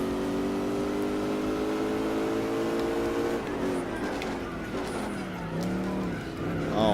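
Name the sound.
Buick Special wheel spin in video game Gran Turismo 4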